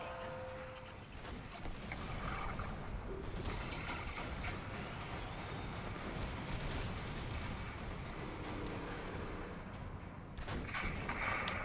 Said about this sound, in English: Have control of the House of Winter's artillery.